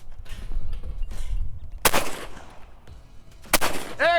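A shotgun fires twice at clay targets thrown to roll along the ground like a rabbit: two loud, close, sharp blasts about two seconds apart, each with a short ringing tail, over outdoor background noise.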